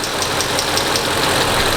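1999 Mercedes C43 AMG engine idling with a lifter tick, a loud steady hum carrying a fast, even ticking, heard up close with no talking.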